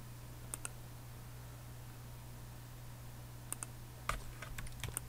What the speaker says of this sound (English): Hold down my shift because I'm going to make an angle there.